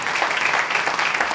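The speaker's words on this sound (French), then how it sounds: "On peut les applaudir." An audience at an evening awards ceremony in a French city hall applauds, a dense, even wash of clapping filling the whole brief moment without a break.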